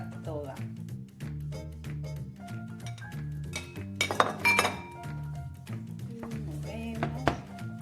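A spoon stirs butter into melted chocolate in a still-hot pot off the heat for a French chocolate cake, producing light repeated clinks and scrapes against the metal under a low steady hum.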